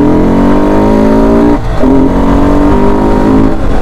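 A motorcycle with a modified air filter revs hard and close, giving a loud, raspy engine roar with a brief drop in the middle before climbing again.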